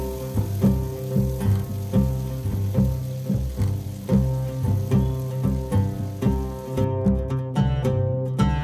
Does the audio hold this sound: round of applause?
no